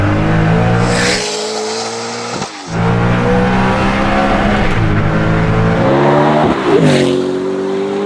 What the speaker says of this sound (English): I'm sat in the new Hennessey Venom, and next to me is John Hennessey, who's created this car, and he's going to do a second gear roll on